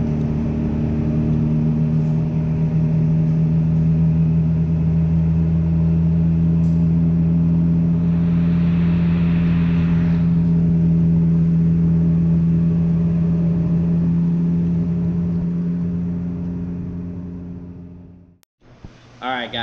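A BMW S1000RR motorcycle engine held at steady revs on a dyno, a loud constant droning hum with a brief rise partway through, then cutting off near the end before a short burst of noise.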